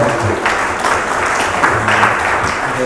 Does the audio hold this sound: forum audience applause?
yes